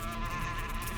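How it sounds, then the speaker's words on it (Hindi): Bees swarm around a beehive, giving a steady, close, dense buzzing drone that fills the whole short moment without any voices. "मधुमक्खी के छत्ते को छेड़ना"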